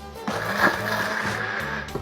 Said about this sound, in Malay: Masukkan ikan bilis tadi, kita blender sikit.